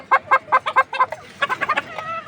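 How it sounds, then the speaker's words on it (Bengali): A hen on a poultry farm clucking up close, a quick run of about ten sharp rhythmic clucks trailing into softer murmuring calls. "এই যে মুরগিটা দেখেন"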